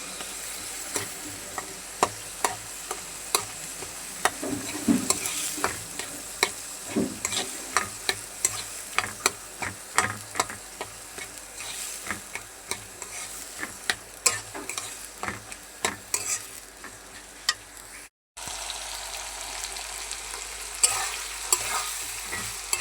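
Chickpeas and potatoes fry in a spice masala under a continuous soft sizzle, punctuated by frequent close scraping stirs of a spoon against the pan, with a brief break near the end.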